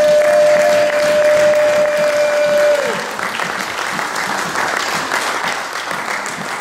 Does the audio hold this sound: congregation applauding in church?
yes